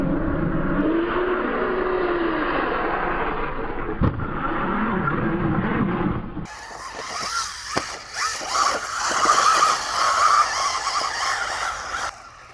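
A DEERC 1205 off-road RC short-course truck bashing around at an outdoor spot, its high electric whine steady at first, then rough revving surges, skids and bumps over terrain, loud and near with no talk.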